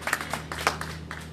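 A church congregation gives scattered applause at a ministry inauguration service: faint, irregular hand claps over a steady low electrical hum, with no talking.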